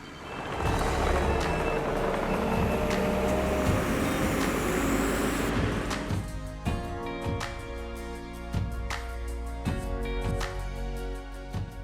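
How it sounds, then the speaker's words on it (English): Skid steer excavating the site for a playset pad: steady, loud diesel engine rumble with clanks and knocks, settling into a rhythmic rattling run of metallic ticks in the second half. "The next step is to excavate the area for the new pad using our skid steer."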